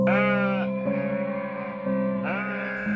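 Goats beside a pen under a salak palm bleat in long, wavering cries, three overlapping calls in close succession, loud and near, with no talk.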